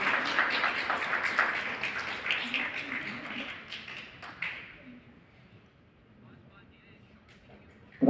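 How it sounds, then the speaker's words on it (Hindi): Applause from an audience fills a convention hall, a dense crowd clapping that holds steady, then thins and fades to near quiet, with a sharp sound at the very end. "तो जोरदार तालियां होनी चाहिए।"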